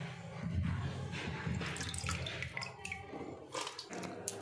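Tap water runs steadily into a kitchen sink while catla fish are rubbed and rinsed clean, a close, continuous splashing stream with small irregular splashes and clatters mixed in.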